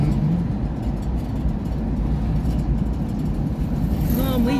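A car drives along a road in Shymkent, and a steady low engine drone and tyre rumble fill the cabin throughout, with a faint rising whine near the end.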